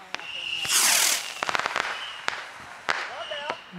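Fourth of July fireworks crack and boom in a series of sharp bursts, one big whooshing blast followed by several rapid pops and scattered later bangs, with a voice talking over them.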